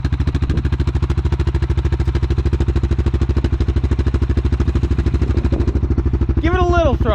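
An ATV engine, either a CFMOTO CForce 600 or a Suzuki King Quad 750, idles close by with an even, throbbing pulse throughout. A voice cuts in briefly near the end.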